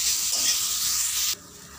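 Pumpkin pieces sautéing with onions in a pan give a strong steady sizzle with light stirring, which stops abruptly near the end and leaves a faint hiss.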